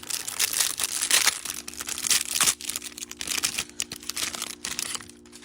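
A foil trading card pack from a Panini Chronicles football hanger box is crinkled and torn open close up, with steady rustling and sharp crackles throughout and a faint low hum in the background.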